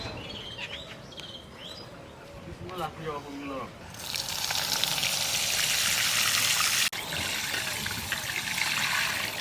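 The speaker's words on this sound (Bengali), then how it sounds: "চাল কটা ধুয়ে দেই গে" Rice for winter pitha being rinsed, a steady splash and trickle of water that starts partway in after a stretch of speech and chirping birds.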